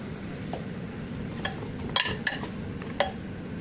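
About a kilo of cleaned country chicken goes into a pan of spiced masala for a curry and is stirred. A soft background sizzle is broken by several sharp clinks and scrapes of a utensil against the pan.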